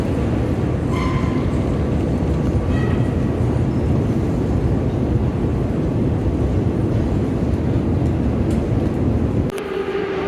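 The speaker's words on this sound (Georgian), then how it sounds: "ჩვენი მეტრო." A metro train runs with a loud, steady low rumble and rattle, heard from inside or alongside a carriage, broken by a faint squeal near the start and a sudden drop in noise near the end.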